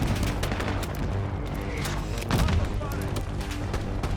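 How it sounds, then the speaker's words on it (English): Mortar fire in Call of Duty Black Ops 6 keeps up a dense barrage of booms and gunfire across the whole stretch, with a louder thump near the middle and voices talking over the combat. "Got motor fire."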